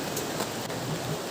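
Steady rain falls at a Himalayan hill temple in Uttarakhand, a dense, even hiss of drops close by with no voices over it.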